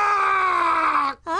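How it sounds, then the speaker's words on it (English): A man lets out a long, loud, sustained scream that holds a strained tone, then cuts off briefly before a second rising cry begins, close and alone without other talk. "I'll scream this out."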